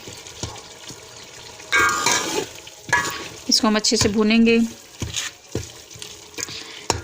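Hand-ground masala for aloo gosht fries and gets stirred in a pan, close and loud, with bursts of sizzling and scraping. A voice speaks briefly in the middle of the clip.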